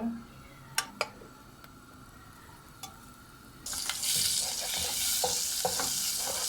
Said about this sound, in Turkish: Şurada da bir kaşık tereyağını ekledim. Şimdi bunu eriteceğim tereyağını.